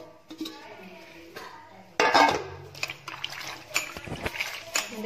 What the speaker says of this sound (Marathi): ह्याच्यात धुवून घेतो आहे पाण्यात।